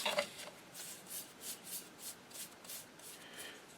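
An HW30 air rifle stock being hand-sanded with 80 grit sandpaper, quiet rhythmic rasping strokes repeating about every half second, close but soft, with a brief clatter at the start and no voices.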